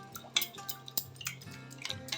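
A spoon clinks and taps repeatedly against a bowl while hot water is stirred into orange jelly powder, with light irregular knocks and faint swishing, fairly quiet and close.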